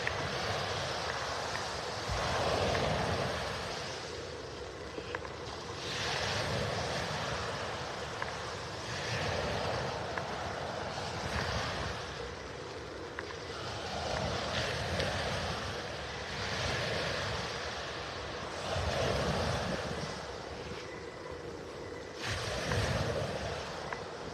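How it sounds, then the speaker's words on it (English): Early-morning ocean waves roll in and wash up a beach in North Naples, Florida, in slow, repeated surges, a steady broad roar swelling and fading with no voices. "Love the sound of the waves in the early morning like this."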